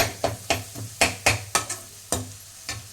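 Carrots and beans being sautéed in a pan for chicken fried rice, with repeated scraping stirs roughly every half second over a soft sizzle, close and without talk.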